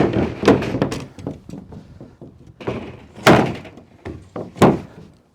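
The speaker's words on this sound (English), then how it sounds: "I will throw this board over here" A wooden board thrown down onto a flat garden-room roof, landing in a few heavy wooden thumps and clatters spread over several seconds, close and loud with no talking.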